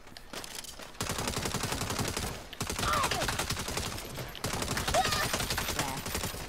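Rapid, continuous gunfire from a gun in the Saints Row video game, loud and dense with short breaks between bursts, mixed with game effects.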